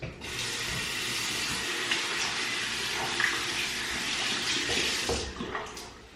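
Cold water runs steadily from a tap for several seconds, a continuous close hiss and splash that cuts off near the end, with no voices.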